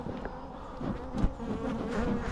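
Honey bees buzz steadily around a backyard beehive during a hive check, a continuous close drone with a few louder passes as individual bees fly near.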